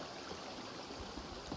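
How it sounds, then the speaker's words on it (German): Steady, faint rush of flowing water in The Forest video game, a continuous even trickle and splash with no voices over it. "Das Wasser ist so saumässig laut."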